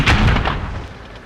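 In the World of Tanks video game, a Conqueror Gun Carriage tank gun fires a single heavy boom with a deep thump, followed by a decaying rumble.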